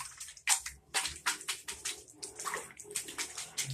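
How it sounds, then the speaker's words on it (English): Soft, close wet squelches and splashes repeat in an uneven rhythm as water is scooped and squeezed through hair, fairly quiet. "I'm basically just scooping the water and squishing my hair with it"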